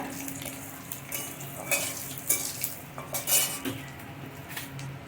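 Whole cumin seeds fry in oil with dried red chillies, a soft sizzle under repeated clinks and scrapes of a spoon against the pan; no talking.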